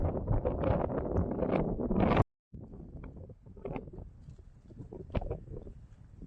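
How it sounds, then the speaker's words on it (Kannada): Strong wind buffeting the microphone atop the misty Nidagallu hilltop peak, loud gusting rumble that cuts out briefly, then continues in weaker, uneven bursts. "ಮ್ಯಾಲೆ ಬಂದರೆ ಫುಲ್ ಗಾಳಿ, ಫುಲ್ ಮಂಜು ನೋಡಿ"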